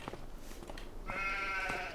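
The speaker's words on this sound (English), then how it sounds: "If I go over to the sheep" Sheep bleat on a farm in Farming Simulator 25: short faint calls, then a longer sustained bleat, alone at low volume.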